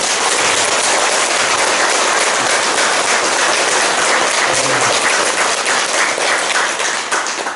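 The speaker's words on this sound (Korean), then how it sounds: "우리 큰스님의 그 공로를 한번 생각하면서 우리 한번 박수 한번 칩시다" Loud, sustained applause from a temple congregation at a Diamond Sutra dharma assembly, a dense wash of clapping that runs unbroken from start to finish.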